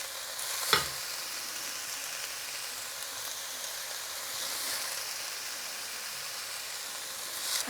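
Aubergine coated in tomato masala sizzles in a pan on the highest heat, a steady close frying crackle and hiss broken by a sharp clunk near the start and another at the very end.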